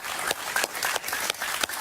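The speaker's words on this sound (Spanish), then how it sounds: "Un aplauso para él, por favor." A TV studio audience claps steadily for an arriving guest on a talk show, a moderate, continuous patter of many hands with no voices over it.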